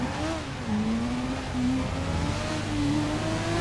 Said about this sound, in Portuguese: Deixa eu acelerar o pouco lá.